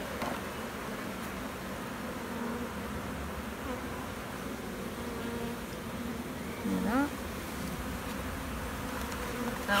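Honeybees humming steadily around an opened hive during swarm prevention as brood frames are inspected, a dense continuous buzz close to the microphone, with a person speaking over it.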